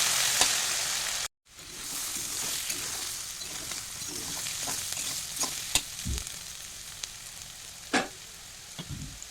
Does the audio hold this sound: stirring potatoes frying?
yes